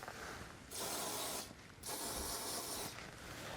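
GT85 penetrating fluid sprayed onto a bolt during rear shock absorber work on a Vauxhall Corsa D: two longer hissing aerosol bursts with a brief pause between, then the start of a third, fairly quiet and close.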